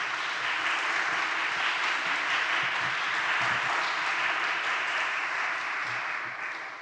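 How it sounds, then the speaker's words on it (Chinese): An audience at a church seminary gathering applauds steadily for nearly seven seconds, a dense, even wash of many hands clapping at once that tapers slightly at the end, with no talking. "所以我们鼓掌，把荣耀归给上帝"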